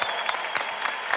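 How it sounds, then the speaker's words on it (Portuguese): Audience applause at a Catholic youth camp gathering, a steady dense patter of many hands clapping throughout, moderately loud and continuous with no voices over it. "Pode aplaudir, gente."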